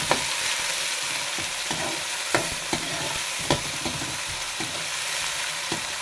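Onions frying gently on a low flame for kaleji masala hiss in a steady, even sizzle, broken every second or so by a sharper spatula scrape against the pan.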